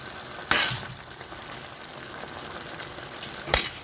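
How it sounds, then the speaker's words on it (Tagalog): Chicken pieces fry in hot oil for adobo with a quiet, steady sizzle, broken by two sharp, loud spits or clatters spaced a few seconds apart; there is no talk. "Piniprito ko muna yung manok."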